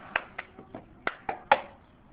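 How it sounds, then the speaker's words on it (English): Hand claps and a plastic cup being grabbed and moved in the cup song routine, six or seven sharp close taps and slaps in a quick rhythm, no talking. "you're gonna clap, you're gonna grab the cup, and then move it"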